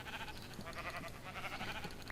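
Sheep bleating in Minecraft, a steady layered bleat lasting the whole short stretch under a noisy game background.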